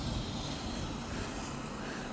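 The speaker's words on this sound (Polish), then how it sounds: "No, kolejny helikopter przyleciał." A helicopter flies over a Himalayan village, a steady droning engine and rotor rumble holding at an even level for a couple of seconds without talk.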